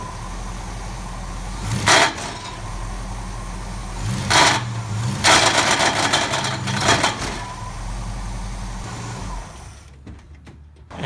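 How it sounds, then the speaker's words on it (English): A 1970 Ford LTD engine with a broken motor mount revs hard three times over a steady idle, each burst loud and close with broadband roar and clunking from the engine torquing, then settles and cuts out near the end. "And that, my friends, is a broken motor mount."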